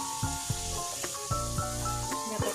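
Spices for a vegetarian papad curry sizzle softly in a pan. A low steady hiss runs throughout while musical tones play over it, and no one speaks.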